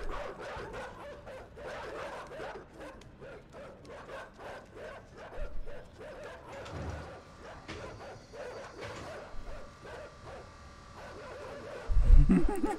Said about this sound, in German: Also irgendwie sind die Hunde so ein bisschen lästig,